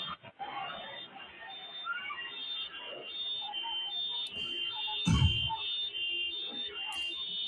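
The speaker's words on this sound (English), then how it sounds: "it's just screaming and car alarms going off" Car alarms go off after a massive earthquake, thin steady electronic tones wailing continuously at a distance over muffled background commotion and a brief thump, without clear talk.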